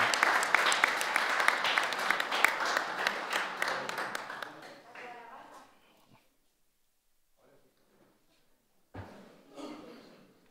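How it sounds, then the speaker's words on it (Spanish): Crowd applause welcoming the vice president at a national party congress of Rocha's Movimiento Nacional, dense clapping for about five seconds that fades out, followed by near silence with a few faint knocks and murmurs. "la señora vicepresidenta de la República, a quien le pedimos un fuerte aplauso, la escribana Beatriz Esquimón."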